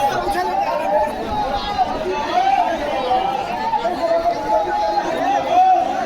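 Large crowd gathered at a Yogi Adityanath election rally in Narpatganj, Bihar, loud continuous chatter of many voices blended with a wavering amplified tone, close and unbroken for the whole stretch.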